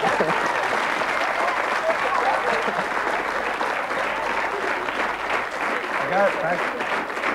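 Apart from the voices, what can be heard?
warm applause from TV studio audience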